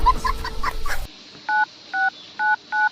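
Four short, evenly spaced telephone keypad tones beep near and clear in the second half, after a second of noisy background sound.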